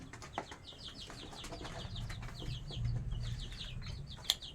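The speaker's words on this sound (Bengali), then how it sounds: "অল্প একটা জায়গার ভিতর এই মুরগিগুলো আমি পালন করছি" Scattered clucks and chirpy calls of Sonali chickens in a busy, cramped coop, with a low hum underneath and one sharp louder peep near the end.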